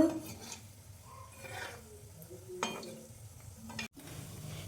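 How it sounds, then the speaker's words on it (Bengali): Mini gulab jamun balls frying in hot oil in a pan, a steady soft sizzle with occasional stirring clinks, close and moderately quiet throughout with no talking. "দেখো এগুলো একটু আমি কালার করে ভেজে নিব"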